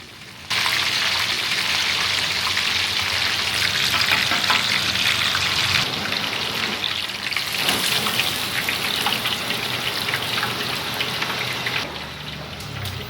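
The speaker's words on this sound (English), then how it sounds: "The delicious sound of chicken frying echoes through the shop." Chicken frying in hot oil inside a shop serving Indonesian food in Malaysia, a loud, continuous crackling sizzle that fills the whole stretch with no talking.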